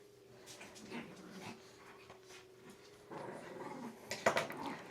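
Dogs whimper and yip in the background, with whines and short squeals rising toward the end as they scuffle playfully.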